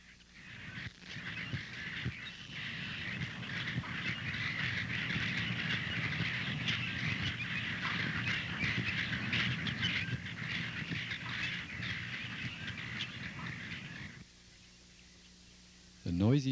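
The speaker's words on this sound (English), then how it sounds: "especially when the birds, such as these grackles, arrive in noisy flocks" Noisy flock of grackles arriving together, a dense, continuous chatter of many overlapping bird calls lasting most of the stretch before dropping away near the end.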